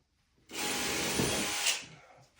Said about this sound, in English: And let's pre-drill that.